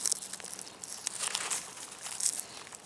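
Paper crinkles and rustles in dense, uneven bursts close by while potato onions are being planted in a garden bed, with no talk over it.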